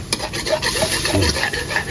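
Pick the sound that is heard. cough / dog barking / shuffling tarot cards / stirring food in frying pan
stirring food in frying pan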